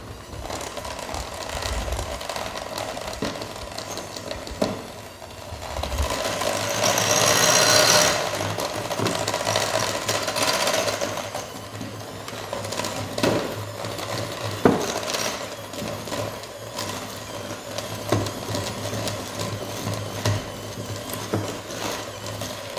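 Cake batter being mixed with melted butter. A steady, close mechanical whirring with scattered clicks and knocks runs throughout, with no voices.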